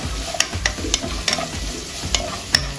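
Chopped onions sautéing in a pan for salna, with steady crackling sizzle broken by repeated sharp scrapes and knocks of stirring, close and fairly loud, no voices.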